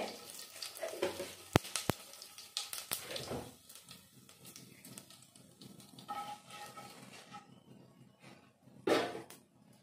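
Dry red chillies and whole cumin seeds tempering in hot oil, giving a soft, low sizzle with scattered crackles and a few sharp clicks, swelling into a brief louder burst near the end.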